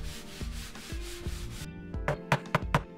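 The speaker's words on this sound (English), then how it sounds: "So we start off as always with my spray bottle and some TSP and a whole lot of scrubbing" Scrubbing a dirty walnut veneer table with a spray bottle of TSP, steady rhythmic rubbing strokes for a while, then a few sharp close knocks or scuffs; no talking.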